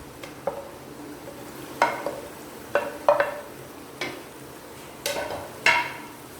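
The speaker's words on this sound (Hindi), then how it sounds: "इसको जो तकरीबन हम 3 से 4 मिनट जो है वो अच्छी तरह भून लेंगे ताकि टमाटर जो है वो गल जाए" Tomatoes, green chillies and yogurt fry and are stirred in a pan for chicken haleem: a soft, continuous sizzle under repeated, irregular scrapes and taps of a spoon against the pan, close up, with no voices.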